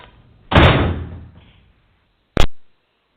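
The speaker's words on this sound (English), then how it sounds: "rushes out the door, keeping the door closed behind her" In an audio drama set at a ballet, a door is shut firmly with a loud wooden thud, then after a pause a sharp latch click follows, both close and isolated.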